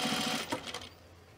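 A sewing machine stitches binding along a tape edge on a fleece pullover neckline, a brief close burst of rapid stitching that slows and fades within about a second.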